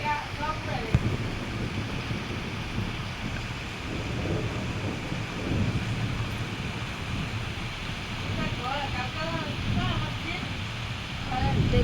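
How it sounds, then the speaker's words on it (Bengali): Heavy rain pours down with low rumbles of thunder, a continuous washing roar, and a voice faintly heard in the background. "এখন আস্তে আস্তে অনেক জোরে বৃষ্টি পড়ছে বন্ধুরা"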